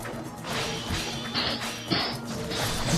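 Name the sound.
smashing enemies in video game Ninja Gaiden Black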